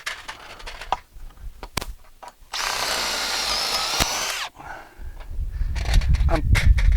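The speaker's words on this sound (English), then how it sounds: "so drill through the bracket" A power drill whines steadily for a couple of seconds drilling through a polytunnel bracket, bracketed by short knocks and clatter, with louder rumbling handling noise afterward.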